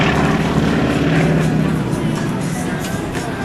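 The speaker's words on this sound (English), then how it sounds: "Now he's going to slow the plane down." A propeller aerobatic plane drones steadily at an airshow at NAS Oceana as the pilot slows down, a loud, continuous engine roar with broad wind-like noise and no clear breaks.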